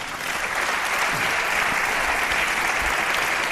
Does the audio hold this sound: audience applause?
yes